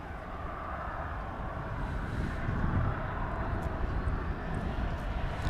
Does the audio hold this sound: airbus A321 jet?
yes